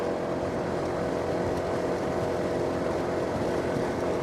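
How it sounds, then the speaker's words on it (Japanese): A Honda ADV160 scooter climbs a steep mountain pass, its engine and exhaust giving a steady, close, spirited drone without a break, mixed with wind rush. "このモデルは結構速度の乗りがいいので、排気音としてもこれぐらい元気がいい方が私はマッチしているのではないかと思います"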